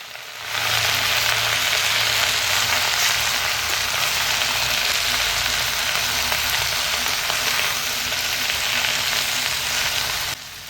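Red amaranth greens fry with onions in a pan, giving a loud, steady sizzle throughout, with a slight shift as they are stirred.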